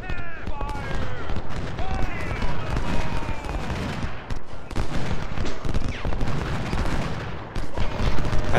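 Cannon and musket fire crackle through a Civil War battle in the Ultimate General: Civil War video game, a dense continuous barrage of overlapping shots and booms at steady loudness.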